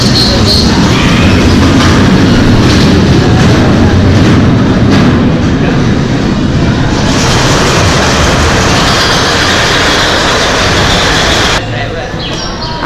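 The Termite ride train at Wonderla amusement park, Bangalore, rumbles and clatters steadily along the track for a long stretch, loud and close, with people's voices mixed into the noise.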